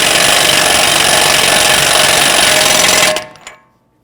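A power tool tightens a 36 mm self-locking axle nut on the front right CV axle of a 2008-2013 Infiniti G37x, a loud continuous rattling hammer lasting about three seconds, then stopping abruptly and leaving a brief faint clatter.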